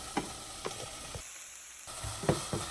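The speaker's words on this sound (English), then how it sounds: "And we're going to cook these down until the jalapenos are soft." Onions, jalapenos and garlic sizzle steadily in a pot, a close hissing fry broken by a few stirring knocks of a utensil, with a short pause in the middle before the sizzle resumes.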